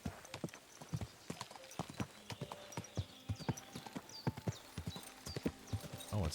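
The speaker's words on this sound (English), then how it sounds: "Why is the horse so loud?" Horse hooves clip-clop in a steady rhythmic stream in the medieval video game Kingdom Come: Deliverance II, loud and close throughout, with occasional faint game sounds over the top.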